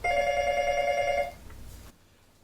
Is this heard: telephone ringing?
yes